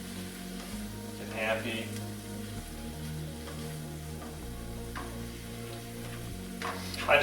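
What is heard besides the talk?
grilled chicken sandwich ingredients sizzling as they cook down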